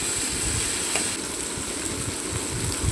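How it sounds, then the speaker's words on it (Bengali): Fish frying in a pan at home gives a steady, dense sizzle with faint crackles, continuous and fairly close, with no voices. "এদিকে মাছ ভাজতে তুলে দিলাম।"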